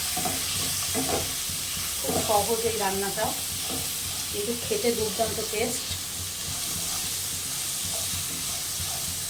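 Teasel gourd stems and vegetables fry in oil in a pan with turmeric, salt and green chilli, a constant close sizzle with stirring scrapes while someone speaks briefly over it.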